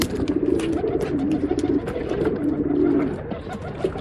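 Several Kawa Guldar pigeons coo steadily in a loud, near, continuous chorus of low rolling calls, with faint background chatter mixed in.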